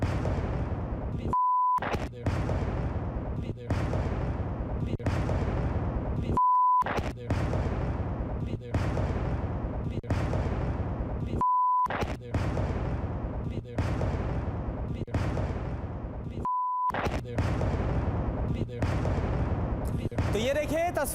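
A series of heavy blasts from drone and air strikes on Ukrainian cities, each a loud booming burst repeating roughly every five seconds with short beeping tones between them, with no talk over the blasts.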